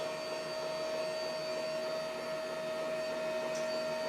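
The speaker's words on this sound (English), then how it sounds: "the electric legs right there, they'll go up and they'll go out" Electric leg-rest motor on a Quantum Q6 Edge 2.0 power wheelchair, running as a steady, faint electric whine with a constant tone and no breaks, heard alone close by.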